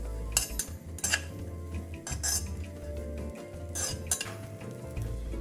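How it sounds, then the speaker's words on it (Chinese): Dried fish roe is stir-fried in a hot wok, with a metal utensil repeatedly scraping and clinking against the pan in uneven strokes over a low background hiss. "沥干后加入热锅内炒干。"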